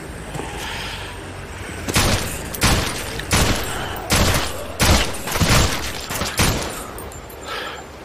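Pistol fire in the zombie survival game SURV1V3, roughly eight sharp shots spaced about half a second apart over continuous game ambience, loud and close with a brief tail after each report.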